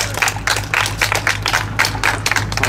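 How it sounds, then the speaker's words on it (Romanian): Clapping at a junior motorcycle road-racing championship in Romania, a few people applauding riders in uneven bursts, fairly close and alone, with no talk over it. "să-i aplaudăm încă o dată"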